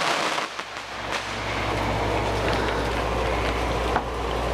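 Neighborhood fireworks bursting outdoors, a steady noisy crackle and rumble with a few sharper bangs, fairly loud and continuous.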